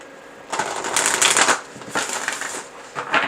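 Cards riffle-shuffled in rapid crackling bursts, three or four quick shuffles close by with brief pauses between.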